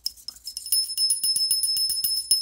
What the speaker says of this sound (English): I had to push the bell against the micro servo